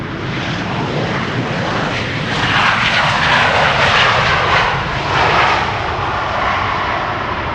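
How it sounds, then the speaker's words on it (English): A Transavia Boeing 737 lands at Amsterdam Schiphol with its thrust reversers deployed, giving a loud, close, continuous roaring rush that swells and ebbs throughout. "another Transavia, or another 737 I should say, that is using the reversers"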